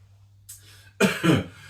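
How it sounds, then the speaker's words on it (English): A person coughs close by in a short fit: a brief throat-clearing rasp, then two sharp, loud coughs in quick succession, alone in an otherwise quiet room. "Oh, another coughing fit."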